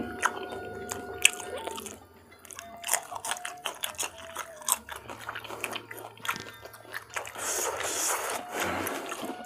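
Crunchy fried tofu with chili being bitten and chewed close up, irregular crisp crunches and chomps recurring through the stretch, fairly quiet.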